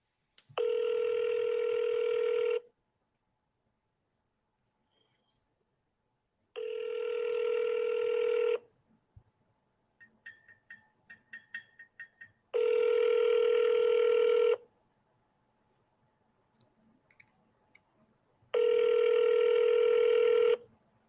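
An outgoing phone call rings out, long evenly spaced ringback tones separated by silence, with a short burst of keypad or line tones in between.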